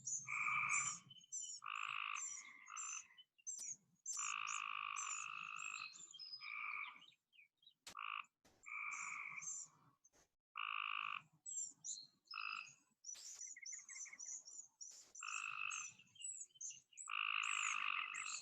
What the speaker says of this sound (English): There go the frogs.